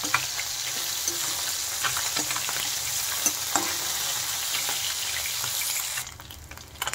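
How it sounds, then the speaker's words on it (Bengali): Small puti fish fry crisp in hot oil with a dense, steady sizzle and spatter up close, easing slightly toward the end. "মাছগুলো কিন্তু খুব ভালো করে কড়া করে ভাজতে হবে"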